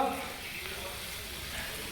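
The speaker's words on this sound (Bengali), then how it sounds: "আর এদিকে পেঁয়াজ ভাজা চলছে" Onions frying in oil in a small cooking space, a steady low sizzle and crackle heard close and unbroken.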